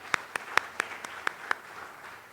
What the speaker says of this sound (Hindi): एक बार तालियां उनके लिए बजा दीजिए।